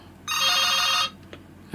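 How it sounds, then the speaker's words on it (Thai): An electronic ringtone for an incoming phone call plays one loud, bright, tonal burst lasting under a second, then stops, and a second ring begins just at the end. "โทรศัพท์เข้ามาแหมเนาะ"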